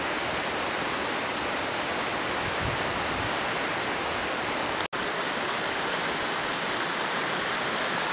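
James Creek rushes through a flood-damaged valley and creek bed, a steady broadband roar of flowing water that stays constant, close and loud for the whole stretch, with a sharp brief click partway through.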